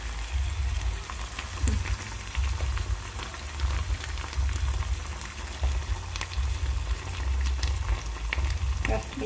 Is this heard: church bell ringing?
no